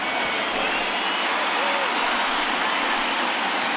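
Large baseball crowd of over 39,000 at a Rays at Yankees game, standing and cheering with a steady, dense roar that holds loud and unbroken throughout.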